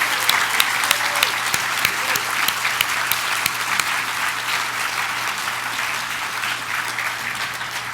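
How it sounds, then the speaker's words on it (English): Sustained audience applause welcoming newly introduced judges at a legal opening program, dense, steady clapping that fills the room from start to finish with no voices on top. "please join me in welcoming our new judges with applause"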